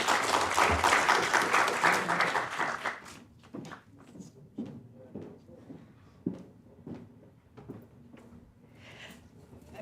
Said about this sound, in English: Please give a huge round of applause to Professor de Chazournes.